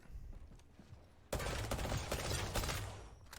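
Automatic weapon fire from the battle royale game Apex Legends bursts in abruptly after a quiet stretch, a dense, loud, continuous rattle of shots that holds steady to the end.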